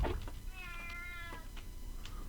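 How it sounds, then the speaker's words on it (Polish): A cat gives a single drawn-out, fairly close meow against quiet background noise. "Słyszę, słyszę tego kota gdzieś,"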